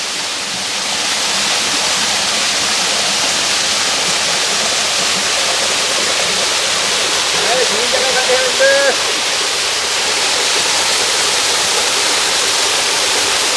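Steady broadband roar of a waterfall pouring down rock in the forest, continuous and close, with brief faint voices partway through.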